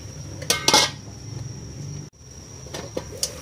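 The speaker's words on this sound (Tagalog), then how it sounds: "takpan ulit natin mga Mars" A lid goes back onto a cooking pot of chicken liver adobo, with a couple of close metallic clanks followed by softer knocks and a brief settling clink.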